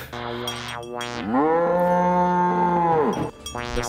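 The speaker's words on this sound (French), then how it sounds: "C'était-tu vraiment juste une vache qui faisait meuh?" A cow gives a long, loud moo, clear and close, between shorter rising and falling tonal sounds, with no talking over it.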